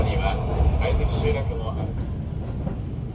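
An Iida Line express train runs on its rails as it nears an S-shaped iron bridge, giving a steady, heavy low rumble from inside the car while a voice speaks over it.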